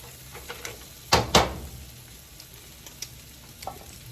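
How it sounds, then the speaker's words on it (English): Garlic salt and pepper crab frying in a pan, with a soft steady sizzle broken by two sharp clatters or pops close together and a few faint ticks afterward. "Salt and pepper fried crab."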